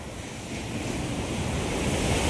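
Ocean surf of the Arabian Sea breaking on Valiathura beach, a steady broad wash of waves with some wind noise, close and continuous, gradually swelling, with no talk.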